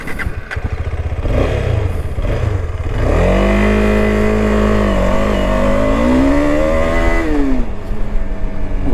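A KTM 250 Adventure motorcycle ridden off-road in summer heat, its engine running loud and close throughout, climbing in pitch under acceleration, holding a steady drone, then easing off near the end.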